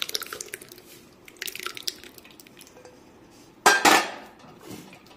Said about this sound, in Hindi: इसका पानी को हम गिरने देंगे।